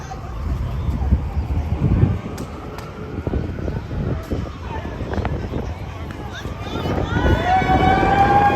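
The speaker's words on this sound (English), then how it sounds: "siren." An emergency siren wails and rises on a New York street outside a court hearing, heard under steady crowd chatter and traffic noise and growing louder toward the end.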